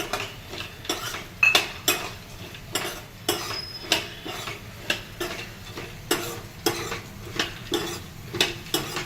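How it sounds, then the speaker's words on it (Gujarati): A spoon stirs pistachio and cashew pieces in a pan over a medium flame while they are lightly roasted for an exotica sweet, giving close, regular scraping clinks at about one per second, alone with no talk. "હવે એમાં આપણે પિસ્તા અને કાજુના જે કટકા કર્યા હતા એ પણ નાખશું."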